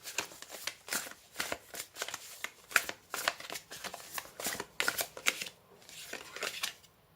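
Oracle cards from the Destin Sacré deck being shuffled by hand, a close series of quick papery riffles and flutters in irregular bursts, with no voice over them.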